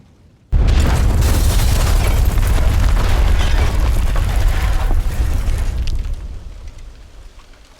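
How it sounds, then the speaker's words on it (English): A loud explosion goes off in a sudden booming burst, blowing someone up; a broad roar holds strong for several seconds before slowly fading, with no voices. "They hear the loud kaboom, blowing Sam to bits."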